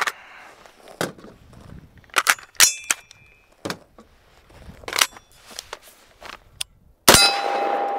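A rifle fitted with an Evolution Weapon Systems bolt carrier group fires during gas tuning: a series of sharp, irregularly spaced shots with metallic clanks, then a louder, sustained blast near the end.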